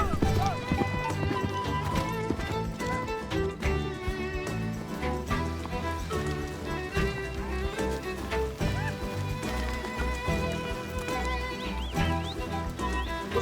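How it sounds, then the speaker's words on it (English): Horses herded down from mountains by vaqueanos, hooves clip-clopping in a busy, overlapping rhythm with occasional whinnies, set under a loud swelling music score. "These vaqueanos move their horses down from the mountains before winter sets in."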